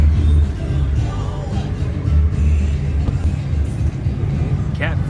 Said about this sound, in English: Hellcat coming in